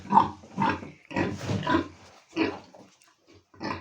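Pigs, a sow with her piglets, grunting in a farm shed, a series of close, loud, throaty grunts in uneven bursts with short pauses between them.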